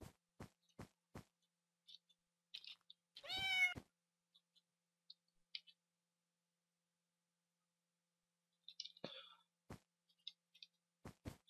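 A Minecraft cat from the Mo Creatures mod lets out a single drawn-out, wavering meow amid sparse clicks and small game sounds, with long near-silent gaps around it.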